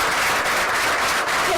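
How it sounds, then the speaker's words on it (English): Loud, dense applause fills a school board of education meeting as a student of the month is celebrated, continuous crowd clapping throughout with no pauses. "Let's clap it up."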